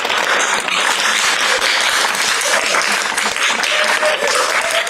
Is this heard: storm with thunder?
no